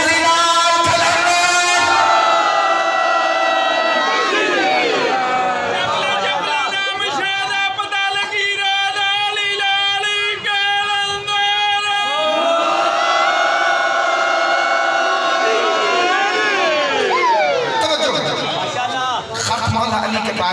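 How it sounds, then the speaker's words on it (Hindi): A large crowd at a Chehlum majlis gathering in Farooqabad chants religious slogans in unison, answering a leader's calls with loud, sustained, harmonious responses that rise and fall in repeated waves, dense and close. "मिल के बोलो नाराए तकबीर, नाराए रिसालत, नाराए हैदरी, दम दम हुसैनी लाल कलंदर"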